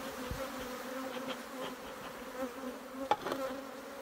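Honeybees of a local breed buzz around an opened hive frame in winter, a faint, continuous drone with occasional louder passes of individual bees close by.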